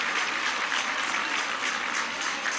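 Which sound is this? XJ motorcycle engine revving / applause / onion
applause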